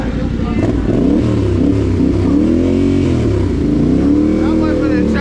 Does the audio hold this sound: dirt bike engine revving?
yes